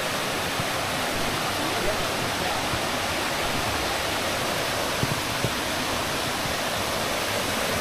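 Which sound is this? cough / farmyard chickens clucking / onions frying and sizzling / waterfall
waterfall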